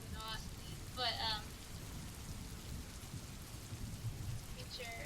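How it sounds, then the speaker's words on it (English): Steady rain falling outside, a soft continuous wash with faint low rumbles, while a few brief high chirping sounds break in near the start and end. "You're gonna hear double rain."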